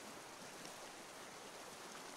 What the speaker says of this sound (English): Oh yeah, a waterfall, nice little waterfall here.